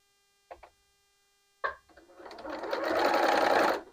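A sewing machine stitches quilting fabric, with a couple of short needle taps first and then a steady, loud whir building and running continuously for over a second, with no talk.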